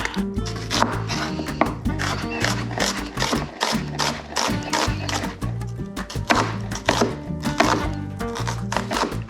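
A knife chops yellow storage onions on a cutting board, a fast run of sharp, close thuds and taps in an irregular rhythm with a short pause partway through.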